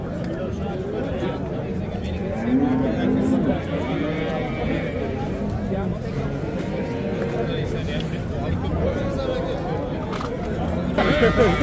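A cow lows once, briefly, at a busy Friday livestock market in Pastdargom, Samarkand, where cows are sold with their calves. The call sits under steady crowd chatter and close conversation.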